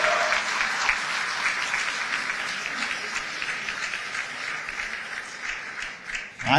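A large audience at an Indian diaspora event in Dubai applauds for Modi, dense, steady clapping that fills the space and holds at an even level before tapering slightly at the end.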